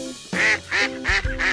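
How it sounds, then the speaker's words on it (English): A duck quacks four times in quick succession, close and loud, with short nasal calls evenly spaced and no other sound. "duck."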